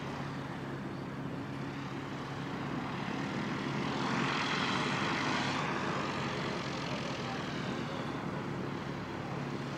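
Air New Zealand airliner NZ5562 taxiing at Christchurch Airport, a steady, droning engine rumble with a whine that swells slightly midway, heard from a distance with no voices.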